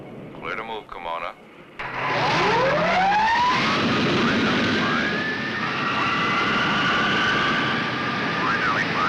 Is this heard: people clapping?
no